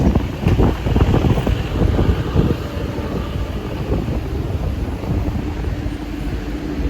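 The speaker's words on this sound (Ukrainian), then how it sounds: "Вітер, вітер." Wind buffets the microphone in rough, rumbling gusts, loud and close, with no voices.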